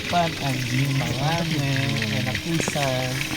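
Food sizzles softly as dinner is cooked at a foggy mountain campsite, a faint steady hiss sitting beneath people chatting nearby.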